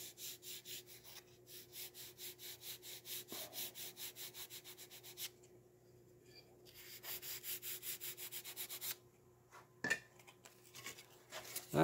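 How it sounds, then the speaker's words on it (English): Repeated rhythmic sanding strokes on the angled leading edge of a small model aircraft wing, steady back-and-forth rasping close up with a brief pause midway, no talking. "What I like to do for the leading edge is sand it at an angle like this."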